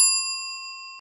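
A single clean bell ding sound effect rings out at once and decays smoothly over about a second, bright and isolated with no other sound.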